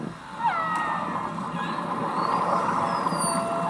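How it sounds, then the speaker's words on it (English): Whales give a high-pitched herding call, thin rising and gliding tonal whistles over a steady rumbling underwater-like background, moderately loud and without talk. "This high-pitched note is what's known as the herding call."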